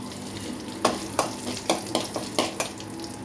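Dry red chillies, cumin and mustard seeds sizzling in hot oil for a beetroot tempering, a steady fry with several sharp crackling pops spaced through it, close by and with no talk.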